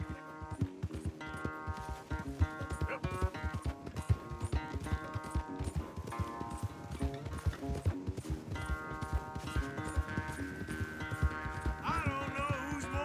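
Horse hooves gallop rapidly during a race in Red Dead Redemption 2, a dense, rhythmic clip-clop pounding continuously under orchestral game music.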